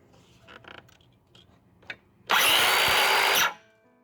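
A Porter Cable 18V power tool running on an alternate 18V 2 amp-hour lithium battery, a loud steady high whir lasting just over a second after some soft handling clicks, then stopping abruptly.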